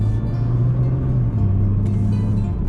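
A 2020 Nissan GT-R 50th Anniversary Edition engine hums steadily, then its pitch steps down smoothly at two gear changes, heard close and continuous with no talking.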